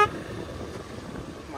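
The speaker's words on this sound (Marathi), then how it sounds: "ट्रॅफिक बघा, इथे लाईनच लागली आहे जी जाणाऱ्या गाड्यांची आहे." Traffic crawls on the Mumbai–Goa highway near Mangaon, with a steady, fairly loud road rumble and a car horn tooting near the start, heard from a motorcycle.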